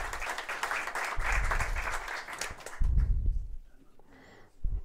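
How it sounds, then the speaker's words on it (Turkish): Audience applause at a Teachers' Day ceremony in Turkey fills a hall with dense clapping that fades after about three seconds, followed by a brief quieter patch and one more burst of claps. "Bir kuvvetli alkışlarınızla tabii."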